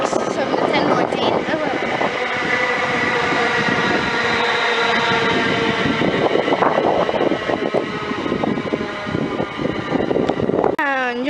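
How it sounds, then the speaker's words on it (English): A London Midland Walsall-to-Wolverhampton train pulls away from platform 2 at Sandwell & Dudley station, a steady loud traction and wheel rumble filling the whole clip with squealing tones, the noise swelling as it moves off. "And just departed from platform number 2, we have the London Midland service from Walsall to Wolverhampton"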